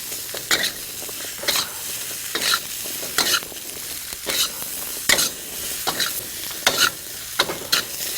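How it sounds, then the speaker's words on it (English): Zucchini coated in spices are stirred in a frying pan, with repeated scraping strokes of a utensil in an irregular rhythm over a steady close sizzle. "Now mix in very carefully all the zucchinis so that they're well coated with"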